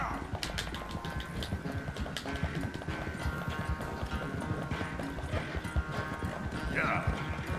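A horse gallops in the video game Red Dead Redemption 2, steady rapid clip-clop hoofbeats close and continuous throughout, beneath game music and a character speaking, with a brief whinny near the end.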